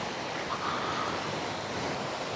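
Sea waves at a beach resort in Real, Quezon, a continuous broad wash of surf mixed with wind noise, steady and fairly loud throughout.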